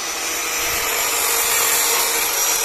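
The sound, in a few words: cutting out the rusty sill of a BMW E36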